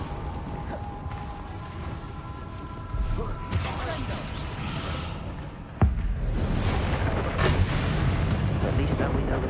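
A Confringo fire spell in Hogwarts Legacy detonates with a sudden sharp boom partway through, set against continuous rumbling game ambience and spoken voices; the bursting blast lifts the noise level after the impact.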